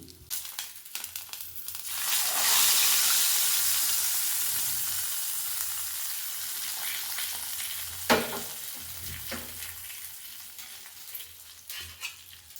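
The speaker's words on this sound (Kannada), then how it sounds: "ಈಗ ಒಗ್ಗರಣೆ ರೆಡಿಯಾಗಿದೆ ಈಗ ಸಾಂಬಾರಿಗೆ ಇದನ್ನು ಸೇರಿಸ್ಕೊಳ್ಳೋಣ ಬನ್ನಿ" Hot tempering is poured into a simmering sambar of basale (Malabar spinach) greens, setting off a loud burst of sizzling that slowly fades into softer bubbling, with a few clinks of stirring near the end.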